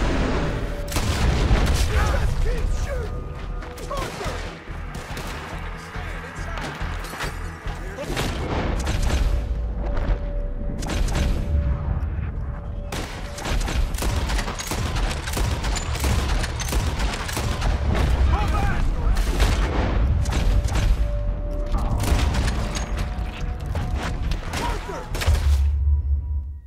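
Sustained Red Dead Redemption 2 gunfight: dense volleys of rifle and pistol shots with heavy booming reports, nearly continuous and loud throughout, with shouting voices mixed in.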